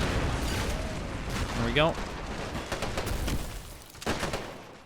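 Rumbling gunfire and mortar blasts from a Men of War battle, Australian troops in a trench line facing the German Afrika Korps, sound through a loud, dense mix with a heavy burst near the end, while someone talks over it.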